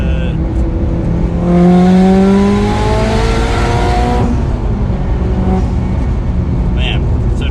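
Turbocharged Mitsubishi Lancer Evolution X engine revving up through a rising pitch sweep into third gear before dropping off, heard from inside the cabin with a steady road rumble underneath.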